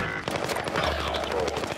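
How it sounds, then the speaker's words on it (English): Rapid automatic gunfire in Call of Duty Warzone on Rebirth Island, a dense, close burst of machine-gun shots rattling continuously. "The bastards are shooting at me."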